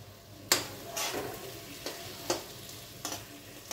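Potatoes for aloo methi are stirred into a sizzling frying pan, with several sharp scraping knocks spaced irregularly over a soft, steady frying hiss.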